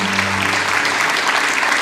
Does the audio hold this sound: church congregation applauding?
yes